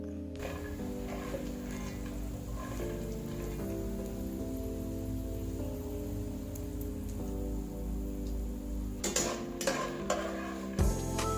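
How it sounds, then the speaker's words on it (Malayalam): Peanuts frying in ghee in a kadai, a steady dense crackling and spitting like rain on a surface, with a few sharper clatters of a spoon near the end and no talking. "ഇതിലേക്ക് കുറച്ച് നിലക്കടല ഇട്ട് വറുത്തെടുക്കാം."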